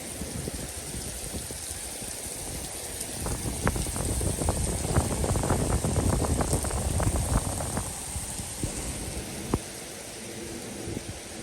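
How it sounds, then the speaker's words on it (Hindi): Heavy rain falls outside a university store in China as a dense, hissing downpour that swells through the middle, with scattered sharp patters and one distinct crack near the end. "आज ये वाली जो बारिश है ये खामोश नहीं है, इसके साथ थंडर स्टॉर्म्स भी बहुत हैं"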